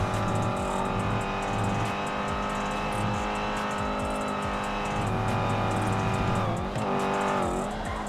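Dodge Hellcat engine in GTA 5, a loud steady roar with rising and falling revs and gear shifts throughout, alongside squealing tires and racing-car layers, continuous and close with no talk.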